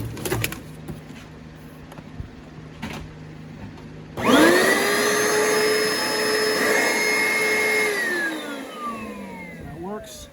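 An Oreck upright vacuum cleaner with a broken belt switches on abruptly partway through and runs at an unusually high, whining RPM for a few seconds. It then winds down with a falling pitch as it shuts off.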